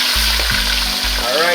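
Fish frying in very hot oil for golden crispy fried fish, a steady close sizzle and crackle filling the short stretch with no talk.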